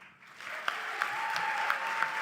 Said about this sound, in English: Wow, round of applause for Dr.